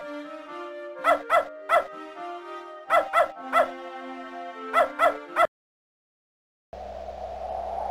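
Dog barking in the Beneath A Steel Sky adventure game, three clusters of three quick sharp barks over a soft musical drone, then a pause and a low steady hiss at the end.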